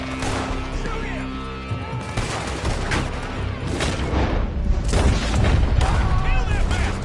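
Gunfire and booming shots in the Red Dead Redemption 2 story mode, with bursts and impacts over a busy game mix, under game-character talk throughout.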